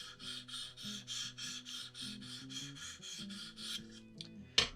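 A Spyderco Tenacious folding knife blade is drawn across the stone of a KME sharpening system in a run of about a dozen quick, even rasping strokes. The strokes sound close and fairly quiet, and a sharper tap closes the run.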